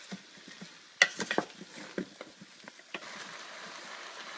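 Vegetables sauté in melting butter for a slow-cooker leek and potato soup, with a soft sizzle under scattered clinks and scrapes as a utensil stirs against the pan.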